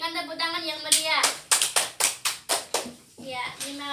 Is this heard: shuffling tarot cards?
no